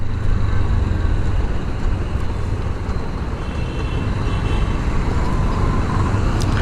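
A Honda CB200X motorcycle rides along a road, a continuous loud rumble of engine and wind roar with steady low-end drive and no breaks, heard up close from the moving bike.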